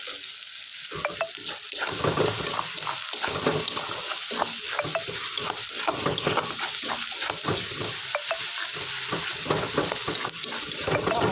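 Spices sizzle in oil for a chicken kosha curry while a spoon scrapes and stirs the pan in a continuous, busy rhythm, loud and close with no talking.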